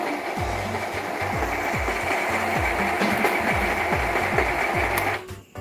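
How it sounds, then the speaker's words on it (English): An Epson L121 inkjet printer drawing ink from its tank into the print head makes a loud, steady mechanical whir, with a rhythmic clunking motor pulse repeating about every half second before it stops abruptly. "The printer is now charging ink from the tank"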